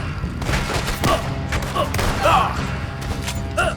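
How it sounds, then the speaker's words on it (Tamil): Gunfire rings out in Red Dead Redemption 2 as sharp shots crack in quick irregular bursts, punchy and near, layered over a busy game soundscape. "அவனை விடாத, சுடு. சுட்டுட்டே இருக்காங்க பார்."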